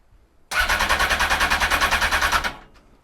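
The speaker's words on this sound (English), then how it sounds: "bike's turning over" A Honda Fireblade motorcycle cranking on its starter for about two seconds, a loud rhythmic chugging whir that stops abruptly, up close with no talk.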